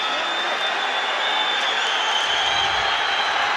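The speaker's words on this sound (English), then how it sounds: "The referee finally calls it off, and the crowd can celebrate long into the night" Boxing arena crowd in Dublin roars as the referee halts the O'Leary vs Hughes fight, a dense, loud, unbroken wall of cheering and applause with a faint high whistle-like tone running through it.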